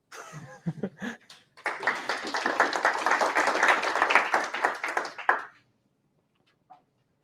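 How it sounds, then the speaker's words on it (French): Audience clapping after a presentation on Accelerate, starting with a few scattered claps, swelling into dense applause for about four seconds, then stopping abruptly; brief voice sounds precede it. "Ça applaudit aussi."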